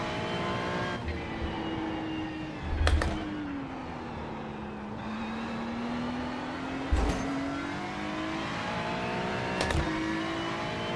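Ferrari race car engine in iRacing, driven at Bathurst during 12-hour race practice, holding a steady high drone with shifting pitch and three sharp thumps from gear changes or kerb strikes, no voices.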